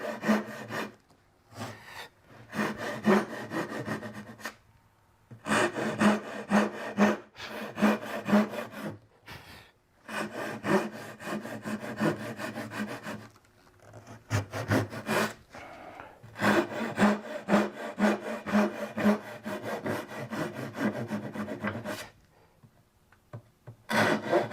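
Rhythmic hand sawing through wood while making a series of cuts for a sawhorse, long bursts of steady back-and-forth strokes separated by short pauses, close and loud with no talk.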